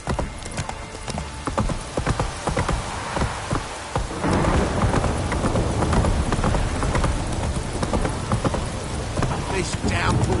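Horse hooves pounding at a gallop through a heavy downpour in The Witcher 3, with steady rain hiss and rumbling under the dense rhythmic clopping, loud and close throughout.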